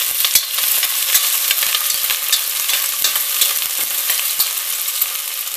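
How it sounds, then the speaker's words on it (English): Garlic and onions frying in a pan at the start of a ground beef lasagna, a loud, steady close sizzle with frequent sharp crackles and pops throughout, no talking. "In the beginning, you have to put the garlic, and you have to put the onions."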